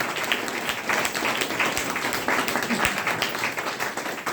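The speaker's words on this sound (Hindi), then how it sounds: "सबके लिए जोरदार ताली होनी चाहिए।" An indoor audience at a health training program breaks into loud, sustained applause, dense clapping filling the room steadily from start to finish.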